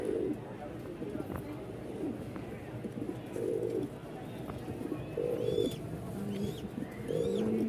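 Fancy running pigeons coo in repeated soft, throaty bursts at close range, with scattered chirps from other birds and some background voices.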